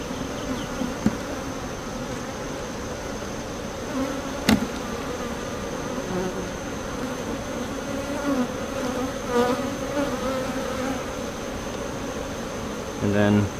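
A honeybee colony hums and buzzes steadily during a hive inspection of a strong swarm colony, a dense drone close by, with occasional sharp clicks and knocks of frames and tools.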